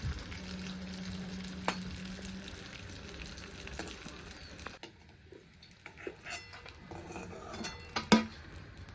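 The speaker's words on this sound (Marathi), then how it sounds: "तुपावर आपल्याला डिंक चांगला भाजून तळून घ्यायचा आहे" Edible gum frying in melted ghee in a pan, a gentle continuous sizzle with occasional metal utensil clinks and scrapes, a louder clatter near the end, and no speech.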